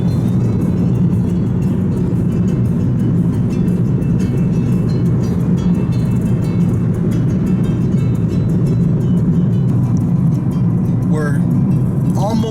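Steady road traffic and engine rumble from inside a vehicle driving out of Caracas, Venezuela, a continuous broadband roar with faint voices in the cabin.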